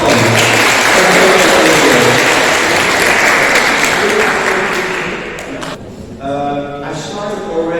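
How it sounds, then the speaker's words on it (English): A lecture audience applauds a speaker with loud, sustained clapping for about five seconds. The clapping then thins out and fades while a voice begins speaking. "Ladies and gentlemen, please join me in giving a warm round of applause to Mr. Arnold Toppen."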